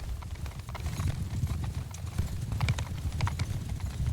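Horse hooves clip-clop in the video game Mount & Blade II: Bannerlord, a dense, irregular stream of thuds from several mounts moving together, steady and moderately close.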